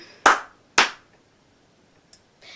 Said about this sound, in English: Yeah, I have a clap on light.